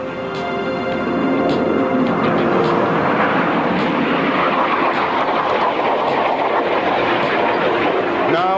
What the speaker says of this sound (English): the aircraft are very close together in a very neat formation